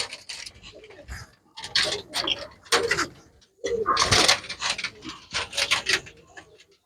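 Soft repeated cooing of pigeons in uneven bursts, close by, with some rustling and background voices.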